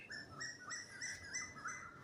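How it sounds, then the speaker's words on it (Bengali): An Asian koel calls repeatedly at dawn, its bright rising whistled notes repeating in a steady rhythm at moderate distance over a soft outdoor background. "এই যে কোকিল শুনতে পাচ্ছেন"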